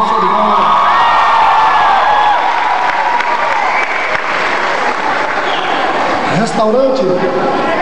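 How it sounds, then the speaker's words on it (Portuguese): Audience at a live pagode show in Porto, Portugal, applauding and cheering in a sustained, dense wash of clapping with whoops and shouts, voices mixed throughout the crowd noise. "aplausos pra vocês"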